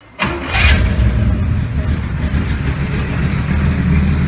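A car engine cranks and catches almost at once, then settles into a steady, loud idle that rumbles on without a break.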